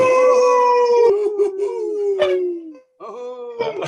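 Several people howl together over a video call, human voices imitating a wolf or dog with long sliding wails that break off and restart, loud and close.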